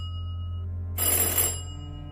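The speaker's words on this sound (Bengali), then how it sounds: "পরিচিত রিংটোন বেজে উঠল।" Mobile phone ringtone sounding in a quiet home, a single bright electronic ring burst lasting about half a second over a low steady hum, fairly close and clear with no talking.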